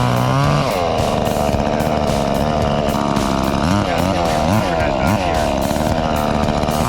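A chainsaw cutting into a tree that fell in a storm, loud and close, a continuous high engine whine with pitch swings under load as it bites through the wood.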